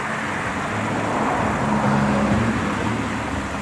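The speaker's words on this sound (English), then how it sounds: "We'll wait till this car goes by" A car passes nearby playing loud music, a broad road rumble with low tonal thumps and bass notes that swell slightly mid-way and then ease off, with no talk.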